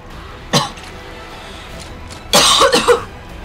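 Someone playing the horror game Afterfall Insanity coughs repeatedly: one sharp cough, a pause, then a close, loud cluster of three or four rapid coughs, with no speech.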